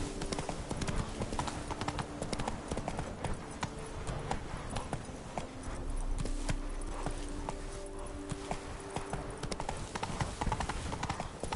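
Roach, a horse in the video game The Witcher III: Wild Hunt, trots with a continuous rhythmic clip-clop of hooves, close and busy, over steady game ambience.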